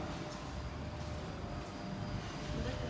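Train standing at Cascais station, heard as a steady, even rumble of railway machinery and platform noise with no clear speech.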